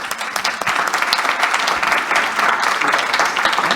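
Lively applause from an audience at a school mediation talk, a dense crackle of many hands clapping at once, loud and sustained without a break.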